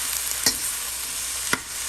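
Beef tripe, beef meat and beef heart stirred in a sizzling pan for pinapaitan, a constant frying hiss with two sharp scrapes of a utensil, close up and without talk.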